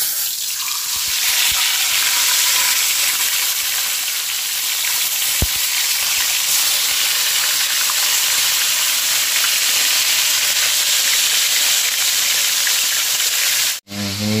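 Tilapia frying in hot oil in a pan, giving a loud, steady sizzling hiss that holds without a break. A single faint tap comes midway, and the sound cuts off abruptly near the end.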